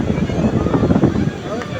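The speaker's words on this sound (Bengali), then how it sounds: "আজকে প্রচুর হাওয়া দিচ্ছে" Strong wind on the beach at Puri buffets the microphone with a low, gusty rumble that rises and falls through the short moment.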